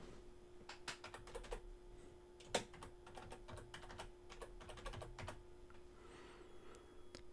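Typing a title on a computer keyboard: a run of quick, irregular key clicks with one louder tap partway through, fairly close and quiet, with no talking.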